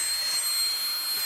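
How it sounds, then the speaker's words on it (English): A small vacuum pump for sealing a Black Voyage Vortex travel bag runs with a steady, high-pitched whirring hiss, close and continuous, with no talking. "this right here is your vacuum to vacuum seal the bag"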